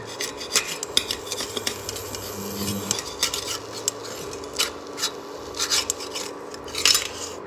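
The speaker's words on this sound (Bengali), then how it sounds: "চামচ দিয়ে উঠাতে হবে আস্তে বাবা আস্তে" A spoon scrapes and rasps against a pan while lifting star- and heart-shaped fried eggs, with irregular metallic scraping and clinks at close range.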